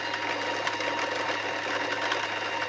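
A sewing machine stitches quilt pieces in steady, rapid mechanical whirring, close and continuous with no talking.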